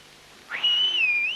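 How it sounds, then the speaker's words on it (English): A tiny figure at a moonlit window whistles one clear, sustained note that starts with a breathy rush and then wavers gently in pitch, close and alone. "even as he looked, it whistled at him"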